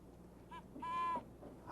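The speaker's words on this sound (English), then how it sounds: "And this is a great horned owl." A great horned owl hoots outdoors in nearby woods at night, a couple of short, soft tonal calls, the second longer and steadier, faint over low background hiss.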